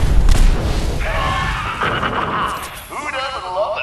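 A grenade explosion in Fallout 4 bursts loudly at the start with a deep boom and crashing debris, then fades under tonal game effects and a voice talking.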